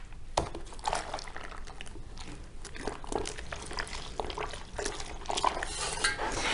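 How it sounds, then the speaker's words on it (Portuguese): A spoon scrapes and swirls through a pot of homemade soap mixture, a steady wet churning with occasional knocks against the pot, close and continuous. "Mexe bem, sempre mexendo muito bem"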